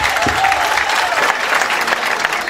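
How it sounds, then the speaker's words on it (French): Students and families at a school inter-class debate final applaud a debate team, a brief burst of thick, close clapping with a few faint voices mixed in. "Applaudissez-les."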